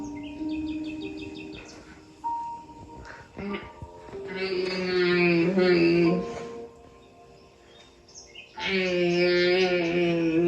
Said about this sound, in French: Des petits oiseaux avec un petit fond de musique calme.